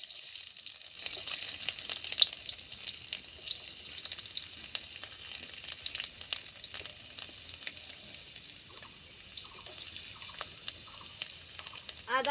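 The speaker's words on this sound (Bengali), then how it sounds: "তেলটা গরম হয়ে গেছে, তেলের মধ্যে দিয়ে দিব গোটা মশলা, দারচিনি, লবঙ্গ, এলাচ, জায়ফল, জয়ত্রী সব কিছু দিয়ে দিলাম। দিয়ে একটু নেড়ে চেড়ে নিব।" Whole cinnamon, cloves, cardamom, nutmeg and mace crackle and sizzle in hot oil, a steady fine frying hiss broken by scattered pops and scraping stirs, quiet and close, with no voices.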